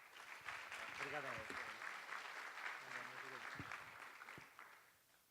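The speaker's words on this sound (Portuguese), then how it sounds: "uma salva de palmas aí para o Rodrigo." Audience applause for a speaker at a typography conference, a steady wash of clapping through most of the clip with a few voices audible underneath, fading toward the end.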